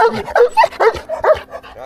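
A dog on a mountain trail barks and yips in a rapid, loud run of sharp calls close by, with whiny edges between the barks.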